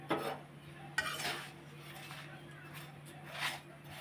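A home cook fries roti flatbread in a pan on a kitchen stove, with faint clinks and soft scraping of utensils on the pan and a few louder knocks. Quiet and close, with a voice speaking now and then in the background.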